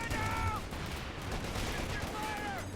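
Rifle fire and grenade blasts from a 4v4 Company of Heroes 2 battle crackle densely under a spoken voice, with a steady wash of gunfire throughout the short stretch.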